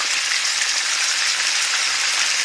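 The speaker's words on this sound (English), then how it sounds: "cook them in a cast iron skillet" Pork chops fry in a cast iron skillet, giving a steady, dense, close sizzle with no talk.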